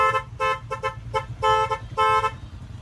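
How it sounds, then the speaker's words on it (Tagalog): Car horn sounded in a series of short and longer honks with uneven gaps while an engine idles underneath; the horn is loud and close. "malakas pa rin ang busina"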